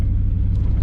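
A farm truck engine rumbles steadily and loudly at close range during a corn harvest, a low continuous drone with no speech.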